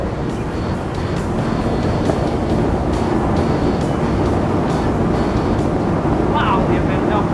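A 37-foot catamaran speeding across water near 75 mph, with steady roaring engine and rushing spray under heavy wind buffeting, loud and continuous throughout.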